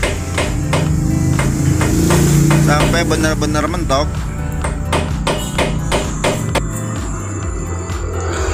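A hammer drives a chisel to tighten the steering head lock nut on a Honda Vario 150 scooter. Rapid, loud metallic strikes ring out in quick bursts while someone speaks over them.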